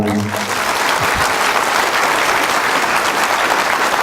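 Audience applause fills a lecture hall after a guest talk by a US state senator, dense and sustained clapping from a large crowd at steady loudness throughout, with no voices over it.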